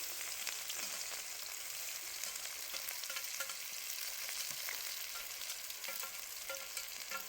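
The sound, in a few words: onions frying in mustard oil on a wood stove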